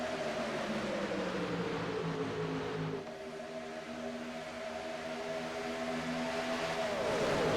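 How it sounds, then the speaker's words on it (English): Race cars in the Barr Visuals FTF Cup Series Bepis 400 roar around a racetrack as a pack, their engines layering into a steady, loud multi-tone drone with pitches shifting as cars pass, heard from on board. "It sounds so good hearing these cars rip around the racetrack."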